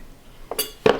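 A measuring cup clinks against a bowl or jar while einkorn flour is measured for cookies: a few brief, close glassy taps in quick succession, with no talking.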